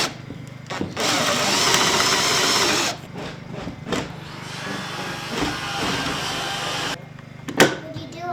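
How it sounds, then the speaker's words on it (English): Close, loud whirring of a power drill cutting holes in a wooden front door for an 1800s rim lock, one sustained run then quieter intermittent sounds and low voices. "this is gonna drill that out"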